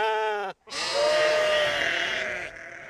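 Sheep bleat loudly and close by, one wavering call that breaks off and then a longer drawn-out bleat that tails away, with no talking.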